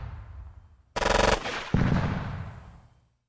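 Mortar fire in the turn-based wargame Squad Battles Eagles Strike, a sharp burst of rapid rattling fire followed by a heavy booming blast that rolls away and decays into silence, loud and close, no talk.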